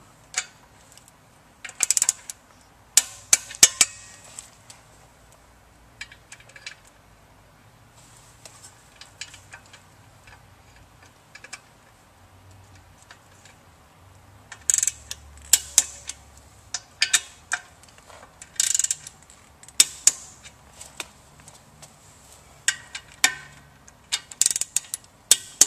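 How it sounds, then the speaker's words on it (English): A ratchet wrench tightens the motor bolts on a Pentax vertical centrifugal water pump, giving short bursts of rapid clicking separated by pauses, fairly close and moderately loud. "we'll go ahead and torque down the motor bolts"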